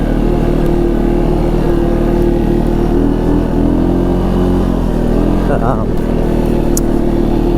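Engine of a 2016 Arctic Cat XC 450 4x4 ATV droning steadily at close range as it rides over a bumpy trail, a continuous mid-pitched hum throughout while someone talks over it.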